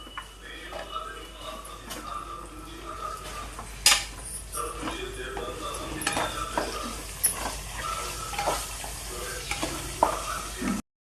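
Onions, coconut and green chillies fry in a pan for a restaurant-style stuffed brinjal curry, with steady sizzling under scraping stirs and occasional clinks of a spoon against the pan, close and moderately loud.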